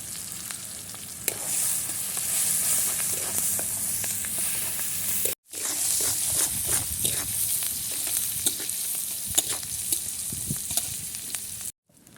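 Small shrimp frying in a pan with chili, turmeric and coriander powder and salt, a steady close sizzle with faint stirring scrapes, briefly cut off twice, no voices.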